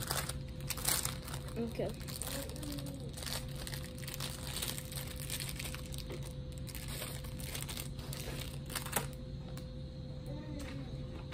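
Plastic packaging around pan dulce sweet bread crinkles softly and steadily for several seconds at close range, with a brief spoken word over it.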